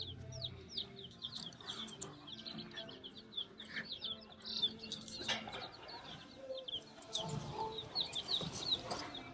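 Chickens for sale at a Rural King farm store cluck and call in a busy, continuous chorus, with occasional wing flapping amid indoor store ambience.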